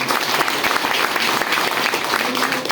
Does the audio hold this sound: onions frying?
no